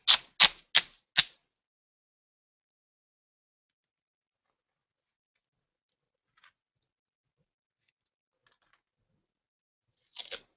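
Fiskars scissors cutting duct tape, four quick crisp snips close up in a rapid burst, then near silence and a final pair of snips at the end.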